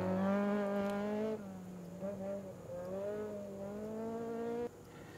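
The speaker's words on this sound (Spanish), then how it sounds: "Vehículo 12, ese Ibiza 2000 GTI de Ayoser Cabrera, Javier Lazo" A 2000 Seat Ibiza GTI rally car at a rally in Puerto del Rosario, its engine droning steadily with pitch shifts as it works through the gears, loud and close, under a commentator's voice.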